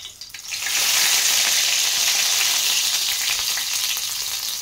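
Curry leaves drop into hot oil in a pan and burst into a loud, steady sizzle that builds within the first second and holds strongly to the end, with no voices.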